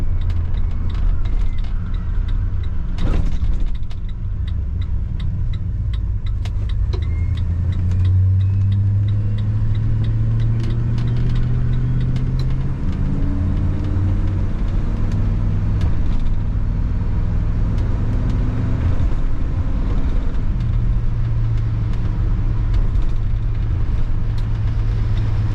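A 1966 Chevrolet Impala SS with a V8 cruising on the road, its steady low engine drone rising and falling through gear changes, close and continuous without talk.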